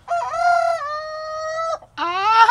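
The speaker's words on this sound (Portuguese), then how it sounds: "O galo cantou." A rooster on a farm lets out a loud, close crow, a long sustained cock-a-doodle-doo held for nearly two seconds, then a short gap and a second harsh rising call.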